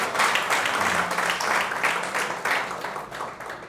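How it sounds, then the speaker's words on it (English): An awards-event audience breaks into a round of applause. Dense, energetic clapping from many hands fills the space loudly and continuously, easing slightly toward the end. "another round of applause"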